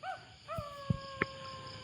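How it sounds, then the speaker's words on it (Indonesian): A wolf howls in long, sustained rising-and-falling tones, two overlapping howls near and clear, with a couple of brief thuds partway through; no talking. "Suara raung lolongan serigala"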